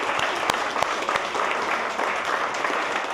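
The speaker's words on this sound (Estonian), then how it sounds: "Teeme meile kõigile ühe aplausi." Audience applause at a cooking show event, a steady dense wash of clapping with a few sharper close claps standing out, loud and continuous throughout.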